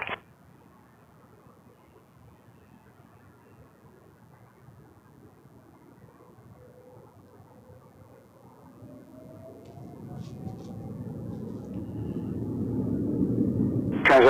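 A jet airliner takes off from runway 23 at Toronto Pearson Airport, its distant rumble slowly building from faint to a steady, louder roar toward the end.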